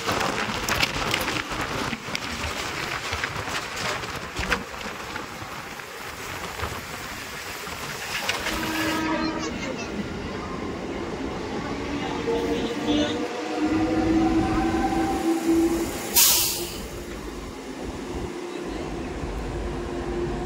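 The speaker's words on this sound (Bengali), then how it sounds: "আর ঢুকলো ট্রেন" A train pulls into Panskura Junction station with a continuous rumbling, hissing roar that thins partway through. A short, sharp burst follows, and faint station sounds sit underneath.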